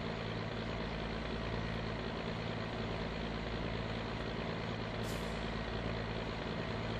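A truck engine idles steadily in the video game My Summer Car, a constant low diesel rumble with a brief hiss of air partway through.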